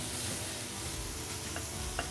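Butter melts in a pan as the start of a roux for gravy, giving a soft, even sizzle with a couple of faint light taps near the end and no talking.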